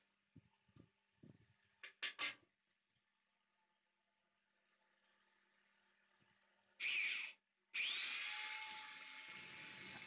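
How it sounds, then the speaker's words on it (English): After a few faint clicks, a power drill whines loudly in two bursts, the second sustained as it bites into a metal tube, rising in pitch. "I am drilling 2 holes at the end of this tube."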